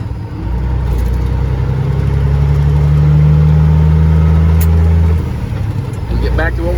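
A semi truck with an owner-operator at the wheel pulls out, its diesel engine droning loud and steady, the pitch holding through a long pull before it drops back, heard from inside the cab.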